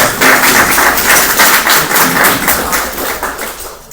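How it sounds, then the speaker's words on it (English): A luncheon audience at a Central Florida education event applauds loudly and steadily, dense clapping filling the room for the whole stretch and thinning slightly toward the end. "Please join me in a round of applause"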